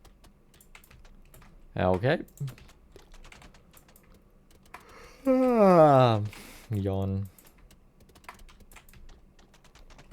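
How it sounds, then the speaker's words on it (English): Computer keyboard typing runs steadily as quiet clicking throughout, with a voice speaking briefly over it in a few short bursts. "I don't think about the keyboard sounds."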